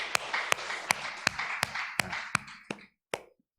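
A church congregation at a Thanksgiving Sunday service claps together in a steady rhythm, with about ten sharp, evenly spaced beats over a scattered applause wash that fades out at the end.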